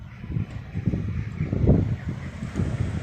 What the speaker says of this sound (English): Hope the wind's not picking up on this again. It's a bit windy in parts.